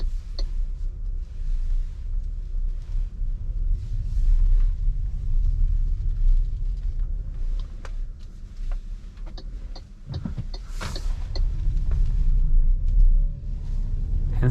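Low road rumble inside a 2022 MG ZS EV electric car driving at night, a steady hum with faint ticking from the cabin and a brief louder swell partway through.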